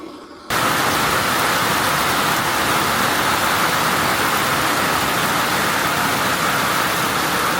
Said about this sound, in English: Okay, so it is raining pretty darn